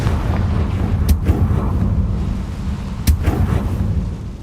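Confringo fire spell explosion in Hogwarts Legacy: two sharp, loud blasts about two seconds apart over a dense, rumbling game soundscape, with no talk.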